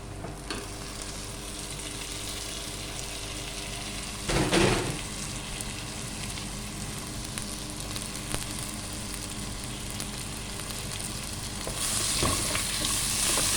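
Onions and tomatoes saute in a pan for spinach sambar, a continuous close sizzle and crackle with a louder stirring burst midway and a brief swell near the end.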